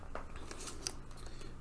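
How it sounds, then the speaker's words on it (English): Scissors snipping through packaging, a few crisp cuts close by over a quiet room hiss, with a brief rustle of material. "do I have any scissors on hand to actually open this up?"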